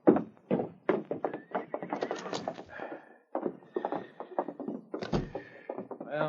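Horses in a radio drama, left behind a small roadhouse, whinny and stamp amid clattering effects and busy layered sound, with a sharp thump near the end.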